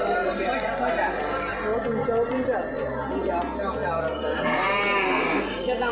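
Cattle at a busy cow market in Sylhet, with livestock lowing and bleating scattered through a steady crowd murmur while people talk nearby.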